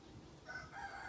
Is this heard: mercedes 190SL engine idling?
no